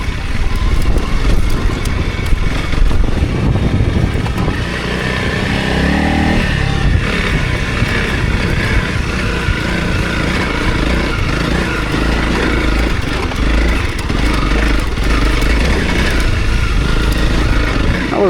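A 300 Rally dirt bike pulls hard through second gear, its loud, raspy engine droning steadily at close range for the whole stretch, with no talk over it.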